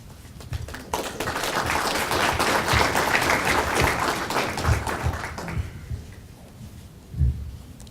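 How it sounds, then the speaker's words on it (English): Sustained audience applause for students at an International Education Week opening ceremony, dense clapping filling most of the stretch and tapering off near the end, with a brief louder burst after. "Let's give these wonderful students another round of applause."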